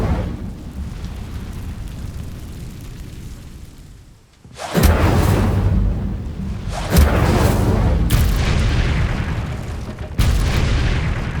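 An Incendio fire spell cast in the Hogwarts Legacy game, heard as loud, roaring whooshing bursts of flame that come again and again after a quieter rumbling lead-in.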